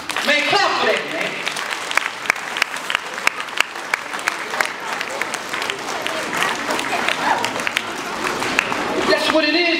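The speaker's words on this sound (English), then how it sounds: "Man, clap for that, man." An audience at an elementary school Black History program claps continuously in a steady patter of many hands, swelling slightly toward the end.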